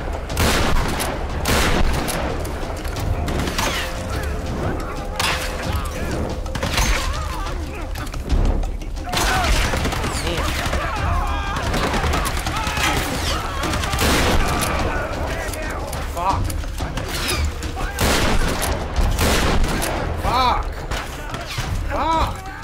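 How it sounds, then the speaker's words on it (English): Shotgun blasts fire in quick succession in Tomb Raider gameplay, loud sharp reports repeating through dense combat noise, with someone talking over the shots. "Shotty seem to work really good here."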